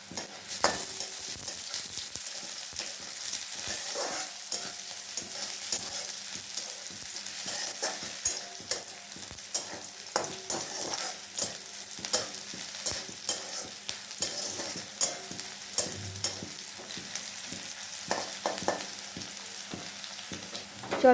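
Red amaranth greens stir-fried with slit green chillies in a pan: a steady loud sizzle runs throughout while a spatula scrapes and clatters in quick irregular strokes close by, with no voices.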